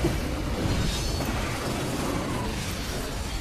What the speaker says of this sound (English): So many rockets